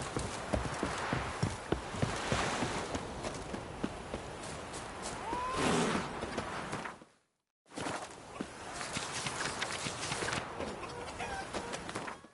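Roach the horse walks in The Witcher 3, hooves clopping in a steady rhythm up close, with birdsong in the background and a brief gap of silence midway.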